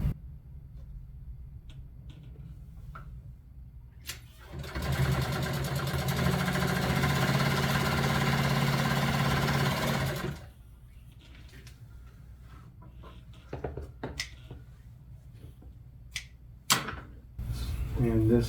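An upholstery sewing machine stitches a seam panel, a steady mechanical whir lasting about six seconds in the middle, framed by quieter handling, fabric rustles and knocks before and after.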